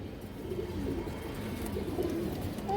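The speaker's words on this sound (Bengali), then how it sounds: "এই যে দেখেন খুবই সুন্দর একটা কবুতর" A pigeon gives faint, low, rolling coos a few times over a constant background hum, with no voices.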